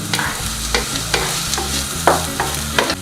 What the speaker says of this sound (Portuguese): Vocês agora querem, então, refogar um pouco a cebola e o alho.